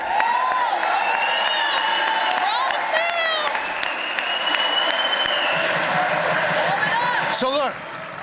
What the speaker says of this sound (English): 25 senators stood up to clap for that